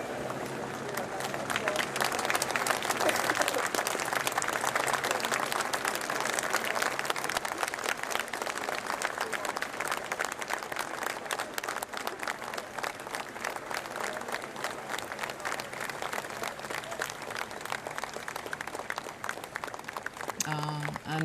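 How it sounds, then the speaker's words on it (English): A crowd lining the streets of Edinburgh claps steadily and continuously as the Queen's funeral cortege passes, a dense, even wash of applause from many hands at a moderate distance. "many people clapping as the cortege goes past"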